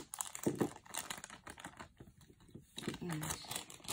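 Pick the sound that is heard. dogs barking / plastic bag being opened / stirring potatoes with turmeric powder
plastic bag being opened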